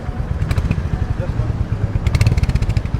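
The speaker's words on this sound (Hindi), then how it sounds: "Could you just rev the motorcycle a little bit?" A Royal Enfield Hunter 350 motorcycle idles with a loud, close, low thumping exhaust beat, pulsing and briefly revving, while people talk nearby.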